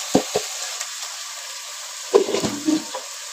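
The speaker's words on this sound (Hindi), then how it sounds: "अब हमने इसे मजीद अच्छे तरीके से इस कीमे को भूनना है।" Karela keema, minced meat with bitter gourd, fries softly in a pan. A faint sizzle runs underneath while a spoon stirs it, making a few scraping knocks near the start and a cluster more toward the end.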